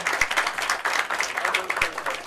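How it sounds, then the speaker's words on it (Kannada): Audience applause rises at a film title launch event in Karnataka, a steady patter of clapping with voices talking over it throughout. "ಜೋರಾದ ಚಪ್ಪಾಳೆ ಬರಲಿ."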